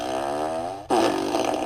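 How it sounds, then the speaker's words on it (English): A fart machine gives a short buzzy, rasping toot that slides in pitch, then bursts into a louder, rougher blat with no pause, heard alone without talk. "Let me hit the fart machine."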